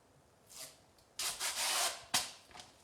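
A cloth rubs a vinyl skin down onto a PerfectDraft beer machine, giving short brisk swishing strokes, one longer rub then a couple of quick wipes, close and clear with no talk.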